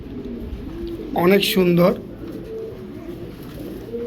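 A male Green Neck Budapest pigeon gives a short cooing call lasting about a second, close by, while people talk quietly around it.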